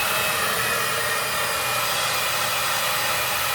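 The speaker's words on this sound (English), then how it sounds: "just kind of move your blow dryer as you're noticing" Continuous loud, close roar of a handheld hair blow dryer blowing on hair during a blowout with a round brush, a steady broadband whoosh with no talking.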